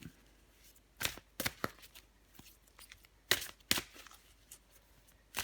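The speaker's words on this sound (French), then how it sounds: "Je vais encore tirer une carte pour vous, les poissons" Tarot cards are shuffled and drawn in a quiet room, with several sharp riffling bursts and softer slides and taps between them, close and fairly faint.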